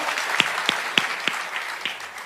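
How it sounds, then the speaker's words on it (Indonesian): Church congregation clapping in praise, a few sharp claps in a steady rhythm over a soft background wash, fairly faint and brief. "Beri tepuk tangan yang meriah bagi Tuhan"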